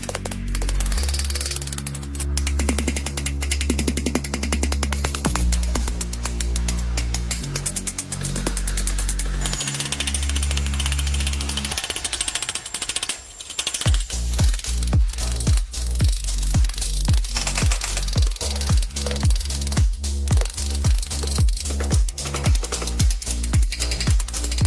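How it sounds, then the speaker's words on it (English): The outer aluminum skin of a wrecked Rolls-Royce body is hammered back into shape by hand, with rapid repeated metallic strikes over steady workshop noise and hum. "Hammering back to shape."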